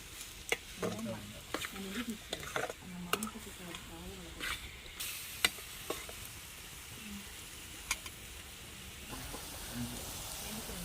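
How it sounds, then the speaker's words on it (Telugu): Tomato pieces are stirred into frying onions in a pan for a raw prawn curry. Spatula scrapes and clicks come in uneven bursts over a soft, continuous sizzle, and a voice talks briefly early on. "ఇప్పుడు టమాటా ముక్కలు అయితే వేసుకుంటున్నానండి. మొత్తం కలిసే వరకు అయితే తిప్పుకుంటున్నానండి"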